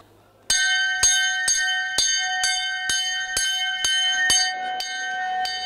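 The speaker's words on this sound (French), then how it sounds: "c'est la première cloche qu'on sonne. C'est là pour prévenir qu'il faut se rapprocher." A single bell on a boat tour, rung to warn visitors that ten minutes of the visit remain. It gives about ten loud, bright strikes at a steady pace, each ringing over the next, with no talk.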